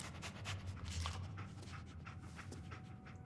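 A dog panting in the Fallout 4 video game, a steady run of quick, breathy huffs at close range over a low game background hum, with no voices.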